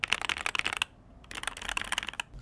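A Nuphy Air75 V2 mechanical keyboard is typed on in quick bursts of crisp, close clicking keystrokes, then a short pause, then another fast run of keys, with no voices.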